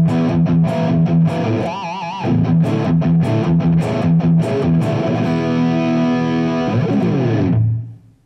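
Heavily distorted electric guitar on the bridge humbucker of a Framus Wolf Hoffmann WH-1 plays a quick run of chords and notes, then a final chord rings out and cuts off.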